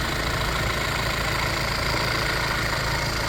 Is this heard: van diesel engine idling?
yes